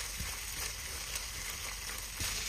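Miso noodle soup ingredients with soy sauce, paprika and pepper sizzle in a hot pot while being stirred, a steady frying hiss with occasional scraping taps, close and continuous.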